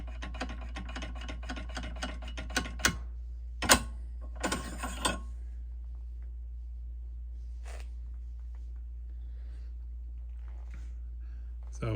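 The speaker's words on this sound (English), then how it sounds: "I'm gonna push it forward and let it come down, and then do the rub thing" Mauser bolt-action rifle bolt worked back and forth to lap its lugs, a few metallic rubbing clicks and sliding scrapes early on, then mostly quiet with occasional faint contact, over a low steady hum.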